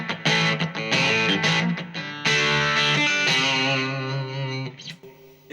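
Fender American Special Stratocaster electric guitar with volume turned up to 10, played loud and heavily distorted with strummed chords and sustained ringing notes, alone with no talk.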